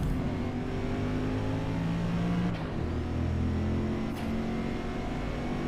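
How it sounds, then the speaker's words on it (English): A sedan engine in the Forza Motorsport racing game strains at steady revs with a sustained droning hum and slight shifts in pitch, continuous and fairly loud with no talking. "You can hear the engine kind of struggling."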